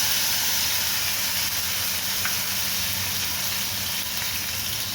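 Spice paste sizzling and frying in a pan for a hilsa fish curry, a steady close hiss of hot oil running throughout with no one talking.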